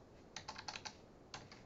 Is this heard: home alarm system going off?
no